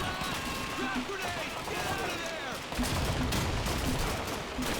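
Rifle gunfire from an M1 Carbine in the World War II shooter Call of Duty 2, sustained dense shots and battle noise throughout, loud and continuous with a slight swell near the end.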